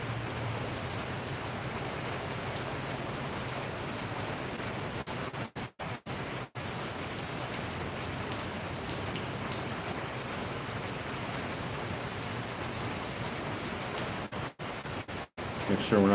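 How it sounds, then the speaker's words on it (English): Heavy rain pours down outdoors in a dense, steady hiss of countless drops striking surfaces, loud and continuous with a couple of momentary dropouts. "Rain's coming down pretty good."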